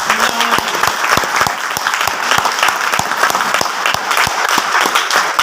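Loud, dense applause fills a marketing meeting hall, a whole audience clapping steadily and continuously at close range throughout.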